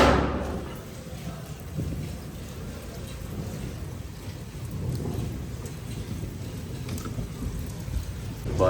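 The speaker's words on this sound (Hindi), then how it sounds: "बारिशें शुरू हुई हैं तो रुकने का नाम ही नहीं ले रही।" Steady rain pours down continuously, with low rumbling thunder rolling underneath throughout.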